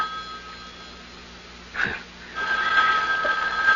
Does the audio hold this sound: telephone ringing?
yes